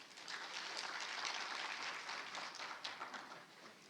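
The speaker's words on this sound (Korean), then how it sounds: "다시 한번 큰 박수 부탁드립니다" An audience at a battery technology conference gives a sustained round of applause after a talk on fast-charging technology. The dense clapping is steady and fairly distant, then fades slightly toward the end.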